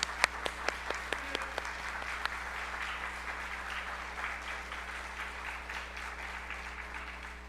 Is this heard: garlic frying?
no